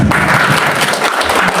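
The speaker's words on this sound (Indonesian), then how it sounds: "Tepuk tangan bagi Allah." Church congregation applauding at a Christmas service in Jakarta, a dense, steady clatter of many hands clapping close and loud throughout, with no voice rising above it.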